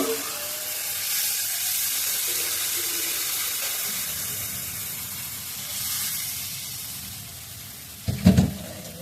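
Fish frying in spiced oil in a pan gives a soft, continuous sizzle and hiss, with a short clatter near the end.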